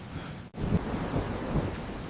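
Heavy rain pours steadily while low thunder rumbles through it. A brief dropout cuts the sound for an instant, and no one speaks.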